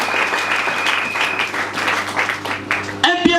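A church congregation clapping in praise during a French-language service, a brisk, dense patter of hands with a sustained tone underneath, ending as a voice and ringing sound cut in near the close.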